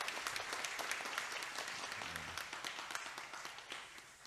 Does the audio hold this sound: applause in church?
yes